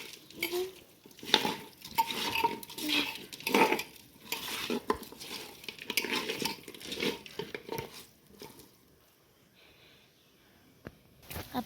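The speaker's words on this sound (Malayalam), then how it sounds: "ഇനി ഇതിലേക്ക് അല്പം ഗരം മസാല കൂടി ഇട്ട് ഇളക്കാം." Curry with garam masala being stirred in a clay pot, with repeated scraping and clinking of a spoon against the pot and faint sizzling, close by, ending in a quieter stretch.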